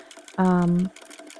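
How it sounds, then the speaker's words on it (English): A sewing machine runs in a single half-second burst, stitching a seam on an upcycled bubble mailer, a steady close hum that starts and stops abruptly against quiet room background. "I always forward sew and back sew"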